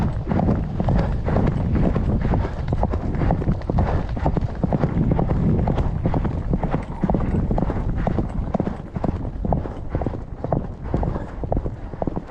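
Horses galloping hard while chasing buffalo, a loud, dense and continuous drumming of hooves close by, with wind buffeting through the whole run and no talk.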